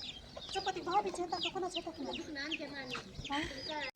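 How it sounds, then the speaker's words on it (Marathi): A grandmother's free-ranging chickens clucking close by in the afternoon, repeated overlapping clucks and short calls with a quieter voice faintly in the background. "आपण कोंबड्या सोडलेल्या आहेत"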